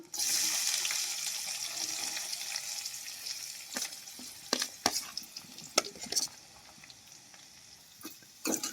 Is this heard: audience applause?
no